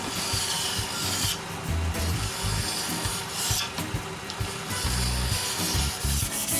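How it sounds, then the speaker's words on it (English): Flat file rasping across a metal lathe tool rest to smooth out nicks and dents, a close, loud, continuous scraping with steady back-and-forth strokes and no talk. "I remove the small nicks and dents the tool sometimes leave there with a flat file."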